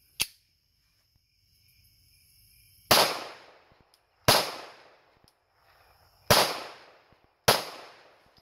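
A Glock 42 pistol fires at a beer can outdoors, five sharp, loud cracks spaced about a second or more apart, each ringing out briefly, with faint insect chirping between shots.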